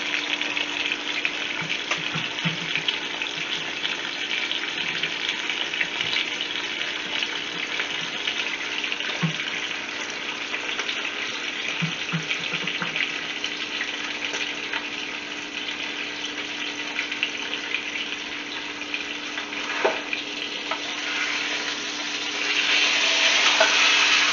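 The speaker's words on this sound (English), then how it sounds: "We're just looking to get a nice kind of sear" Iowa pork steaks searing in a Copper Chef roaster, giving a steady close sizzle that holds evenly throughout, with faint clinks and a slight swell near the end.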